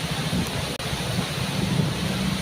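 Lembah Anai waterfall and river overflowing onto the Silaing climbing road, a dense continuous roar of rushing water, loud and steady, with a brief dropout near the start.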